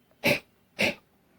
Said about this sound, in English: It happens when people cough